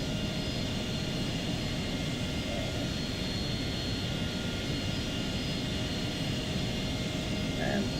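Simulated AV-8B Harrier II jet engine in a flight game, a steady broadband roar holding at constant loudness while the jet taxis to parking.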